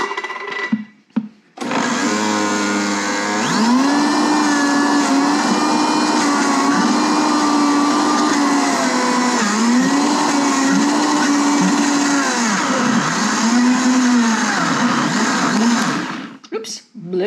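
A blender motor whirs loudly and steadily for about fifteen seconds as it blends tomatoes for gazpacho, its pitch dipping and rising as the load shifts, then cutting off abruptly.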